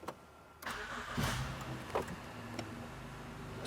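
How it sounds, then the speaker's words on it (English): An Acura MDX engine cranks and catches after a door thud, then settles into a steady idle rumble, recorded close with no talking. "I'm gonna start the engine."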